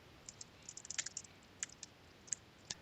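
A command typed on a computer keyboard, a quick run of faint, crisp key clicks in uneven rhythm followed by a few isolated taps, close and quiet with no talking.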